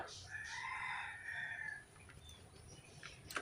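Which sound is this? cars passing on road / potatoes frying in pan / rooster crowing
rooster crowing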